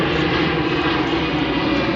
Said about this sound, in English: another Delta plane